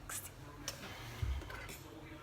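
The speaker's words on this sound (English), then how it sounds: "I use a fork because it helps combine everything, but it doesn't get stuck in it in the same way that a whisk does." A fork stirs yeasty bagel dough in a bowl, giving a few light metallic clinks and taps against the bowl over a soft background hum, quiet and close.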